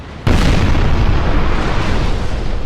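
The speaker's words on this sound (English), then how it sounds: "Port fires a big chain shot on the 122, and that ends it." A warship in the Napoleon Total War naval battle fires a big chain shot: a sudden loud boom that swells into a sustained, dense roaring rumble.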